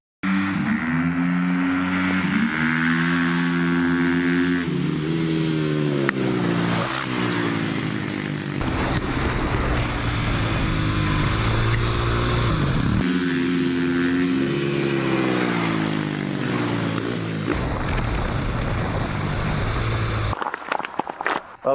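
Flat track motorcycle engine revving loud and close as it downshifts three gears from fifth into a turn with no braking, rising and falling harmonic engine tones with repeated drops in pitch between gears.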